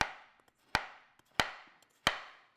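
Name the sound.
slicing frozen bananas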